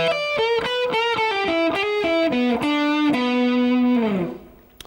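Electric guitar with distortion playing a blues shuffle lick, a run of bent and sliding notes ending in a held, fading note, close and clear with no talk.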